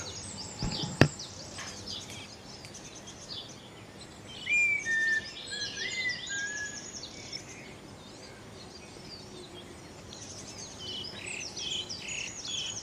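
Songbirds chirp and trill in a natural setting, a few short melodic phrases rising above a steady hiss of ambient outdoor noise with faint insect-like buzzing, moderately distant and fairly quiet.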